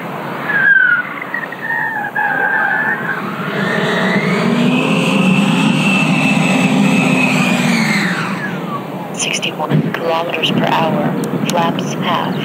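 A 13 kg RC jet, the Odyssey, powered by a 16 kW JETFAN-130 electric ducted fan on 16S graphene batteries, screams past at high speed; its loud whine swells and falls as it passes, followed by wind buffeting.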